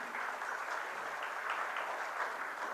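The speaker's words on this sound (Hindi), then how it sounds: "हम लोग जोरदार तालियों से इनका स्वागत करें।" Steady, dense applause from a crowd welcoming a chief guest at a book launch, even and sustained throughout with no voices standing out.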